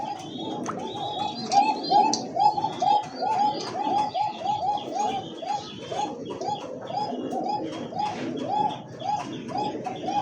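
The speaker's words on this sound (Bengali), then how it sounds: "ডাক দেখ, নরের ডাক না?" Fancy pigeons, a male and female pair, coo repeatedly in a rapid rhythmic series of soft throaty calls, close by, with faint chirps and background murmur throughout.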